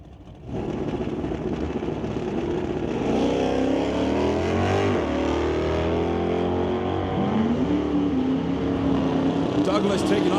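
Drag race cars, including a 2023 Dodge Charger, launching off the line at an ET bracket race, a loud engine roar that builds and rises in pitch as they accelerate down the strip, with an announcer talking over it.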